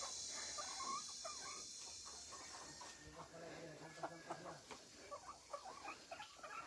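Backyard chickens of a native Bisaya breed clucking softly and intermittently at close range, with scattered scratchy patter and faint background noise.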